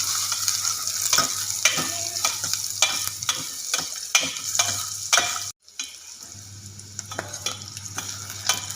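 Vegetables and fruit for a vegetable sambar fry in a pan, with a steady sizzle broken by repeated scraping stirs, a brief pause, then softer sizzling with occasional stirs.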